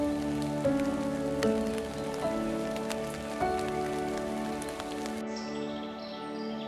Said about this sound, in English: Just us, the sound of the rain,